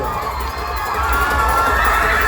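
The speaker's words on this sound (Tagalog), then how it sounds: "Grabe ang crowd." Dense school crowd at a Baybayin Integrated National High School festival competition, cheering with children shouting, a loud, continuous roar of many voices filling the space throughout.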